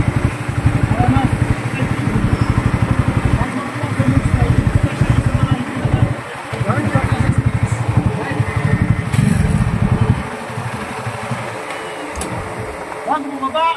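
Motorcycle engine running during a riding lesson, a steady close idle and throttle drone that dips briefly and drops lower near the end, with voices talking over it.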